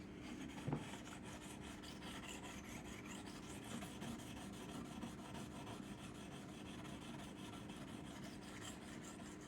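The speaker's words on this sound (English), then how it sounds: "Now I'm going to hone this with a, this is an Arkansas stone." A knife is honed on a smooth Smith Arkansas sharpening stone, a faint, steady rasping rub that repeats in quick strokes throughout.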